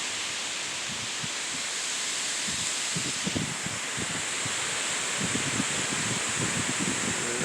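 Steady, broad wind roars through leaves and foliage just ahead of a storm, a continuous rushing hiss with gusty surges and low buffeting rumble throughout.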